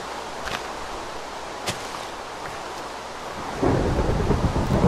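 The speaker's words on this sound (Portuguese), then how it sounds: "Opa, deu o primeiro trovão." Thunder rolls in a Minecraft rainstorm, with sharp cracks early on, then a loud, rumbling boom swells near the end over steady rain hiss.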